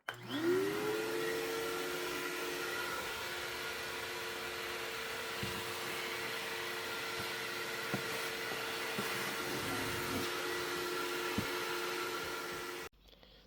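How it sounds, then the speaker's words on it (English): A vacuum cleaner sucking up gnats in an off-grid wilderness cabin whirs up to a steady, loud drone and runs continuously, with occasional bumps and knocks as it moves, before shutting off at the end. "Vacuum up the little"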